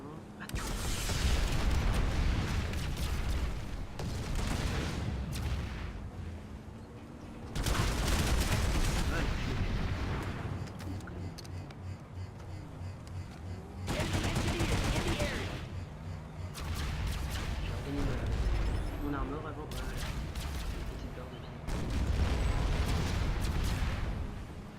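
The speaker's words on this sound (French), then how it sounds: "Là, je vais tirer." Gunfire from a PS2 shooter game, dense bursts of rapid shots and blasts repeating across the whole stretch, loud and continuous with brief lulls between volleys.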